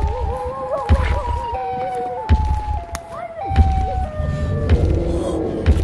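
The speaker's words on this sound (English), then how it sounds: "There's a there's, there's a siren again." A wailing siren shifts pitch in steps over heavy low rumbling, with a few voices exclaiming in the background.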